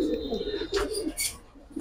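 A Giribaz pigeon coos at a pigeon breeder's loft with low, rolling coos close by. Faint chirps and a little background talk come from other birds and people.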